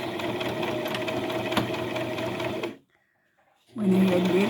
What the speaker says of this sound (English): I gotta sew it right above that nose, right there. Trying not to miss the cloth.